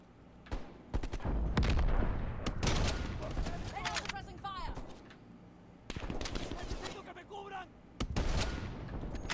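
Gunfire in the Call of Duty Cold War video game, repeated bursts and single loud shots with booming impacts, close and dense, with a few quieter gaps between volleys.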